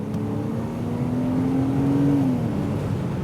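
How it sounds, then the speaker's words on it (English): A Porsche Boxster GTS, a 986 or 718 mid-engine roadster, accelerates from inside the cabin. Its engine note climbs steadily and loudly, then eases off, with no talking. "the sound from me comes really from the left side here, from the midship engine concept."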